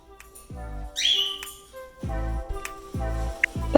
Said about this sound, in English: She likes to talk and whistle. That's what she was doing right here.